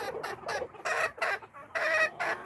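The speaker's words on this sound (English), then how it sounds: "Makes the chickens happy." Silkie chickens clucking close by in a garden coop on fresh bedding, a series of short, irregular bursts of soft chatter with brief pauses between them.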